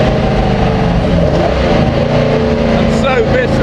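The Jaguar XJ13 race car runs flat out, its engine a loud, continuous roar that holds steady throughout with a slight rise in pitch near the end.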